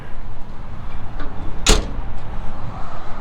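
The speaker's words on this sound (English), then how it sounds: "These doors are in good shape. They open up nice and easily." Door on a 2006 Caterpillar D4G XL dozer swings open with a single sharp clack near the middle, set against steady low outdoor background rumble.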